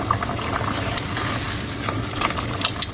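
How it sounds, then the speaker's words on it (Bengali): Dal puri frying in hot oil, a steady crackling sizzle with faint stirring clinks, close and continuous throughout with no talking. "তেলটা গরম হয়ে গেছে, এখন আমি পুরিটা দিয়ে দিলাম।"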